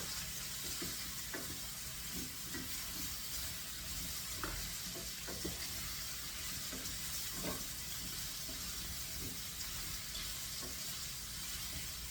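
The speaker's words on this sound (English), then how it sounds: "So we're going to cook this till the liquid cooks out of those mushrooms" Mushrooms cooking in tomato sauce in a pan, a constant bright sizzle and bubbling hiss throughout with occasional soft pops and stirring taps, no talking.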